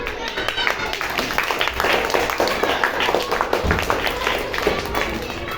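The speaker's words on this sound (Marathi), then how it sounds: "टाळ्या वाजवा, टाळ्या वाजवा" An audience claps at a school National Science Day event after a child shows a lung and breathing model, a steady dense patter of applause running throughout with voices mixed in.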